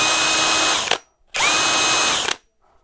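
A Parkside Performance 64 Nm cordless hammer drill whirs at high speed twice. Each burst ends in a brief rattling grind as the trigger is released and the chuck spins down.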